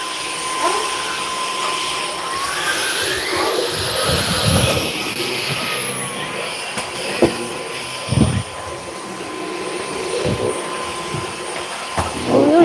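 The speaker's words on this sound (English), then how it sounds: "Just bring the vacuum." A household vacuum cleaner runs steadily while a kitchen floor is cleaned, a loud continuous whine with thumps and knocks as the nozzle bumps around, no talking.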